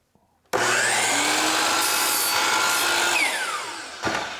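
A miter saw bites into a piece of wood with a loud, sustained whine and rasping cut that starts abruptly and runs for about three and a half seconds, then spins down with a short knock at the end.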